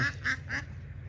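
Old laying ducks on a farm in Maha Sarakham give three quick, nasal quacks close by at a steady pace, then fall quiet.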